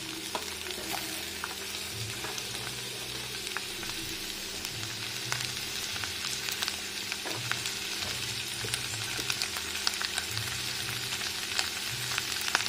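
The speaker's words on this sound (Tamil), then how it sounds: "இதை வந்து நம்ம வதக்க போகிறோம்." Large pieces of onion sauté in hot oil in a pan for a mango butter masala, giving a steady, close crackling sizzle with faint stirring scrapes throughout and no talking.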